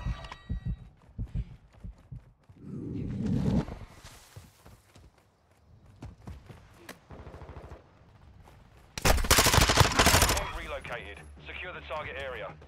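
Bursts of automatic gunfire in Call of Duty Modern Warfare II, scattered shots and footsteps giving way to a loud, sustained close burst near the end, with game voice callouts heard throughout.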